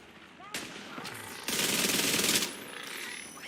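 Bursts of rapid gunfire in a German-language video game, a short volley followed by a denser sustained burst of automatic fire, loud and close, then fading into lighter shots.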